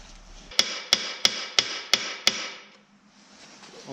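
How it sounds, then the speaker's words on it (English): A hammer pounds on a part of an Agricat mini dozer engine during a rebuild: six sharp, evenly spaced metallic blows, close and loud, followed by quieter shop noise. "Got a hammer."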